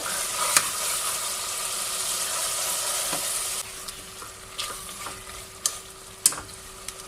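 Masala sizzles and fries in oil in a pan for aloo matar pulao. The hiss is steady and close at first, then drops to a quieter sizzle broken by occasional stirring clinks and scrapes.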